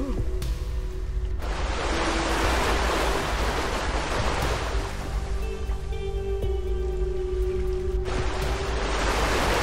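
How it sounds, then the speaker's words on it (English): Heavy rain heard from underwater in a survival video game, a dense, steady rushing wash like a waterfall, loud and continuous with a faint tonal hum and brief higher tones over it. "if it's raining, it sounds like there's a waterfall in your head"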